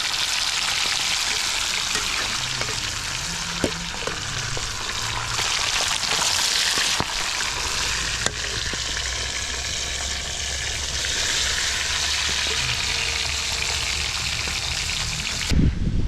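Marinated fish frying in hot oil, a loud, steady sizzle and crackle running throughout with a few brief clatters and shifts as pieces settle.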